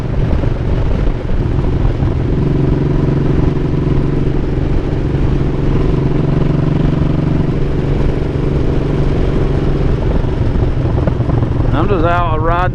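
Motorcycle riding along an open road, its engine droning steadily with a constant hum and heavy wind rush throughout, with a voice talking over it.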